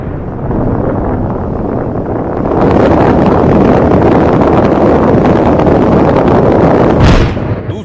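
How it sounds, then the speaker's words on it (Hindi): Israeli strike on Hezbollah fighters: a loud, continuous roar of blasts and rumbling explosions, swelling in intensity partway through with a sharp burst near the end, no speech. "आप देख रहे हैं हिजबुल्ला के लड़ाके जिस पर इजरायली हमला हुआ है।"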